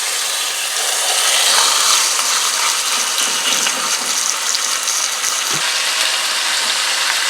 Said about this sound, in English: leave this for about 3 to 4 minutes and let it sear on the bottom side